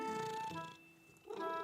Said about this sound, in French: Maman et Caillou entendirent un miaulement discret.